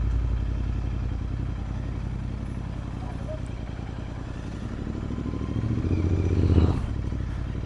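A Royal Enfield Interceptor 650 motorcycle rides in the rain with an engine drone that swells briefly near the end. The tyres are low on air and the bike handles oddly, and a rider's voice talks over the engine.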